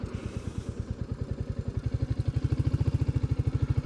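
A Royal Enfield Bullet 350 single-cylinder thumps with an even, pulsing beat that quickens and grows louder as the rider moves up through the gears, close and steady with no talking.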